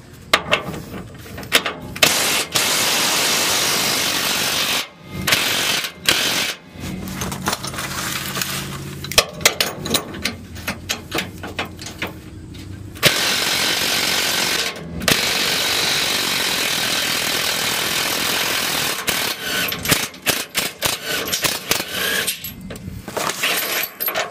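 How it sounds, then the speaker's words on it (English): Power tool, likely an impact wrench, working 21 mm bolts on a vehicle: repeated loud, harsh mechanical rattling bursts broken by short pauses and clicks, close up throughout. "this is where having the power tools does come in handy"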